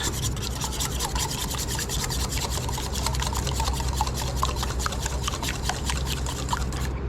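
Shrimp fried rice being stirred in a pan, a steady scraping and sizzling that runs continuously with rapid, regular strokes of the utensil, close and fairly loud.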